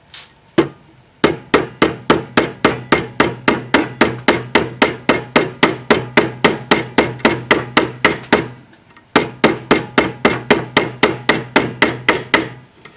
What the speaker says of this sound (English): I'm going to use my Delrin hammer, plastic, and I'm just going to hammer here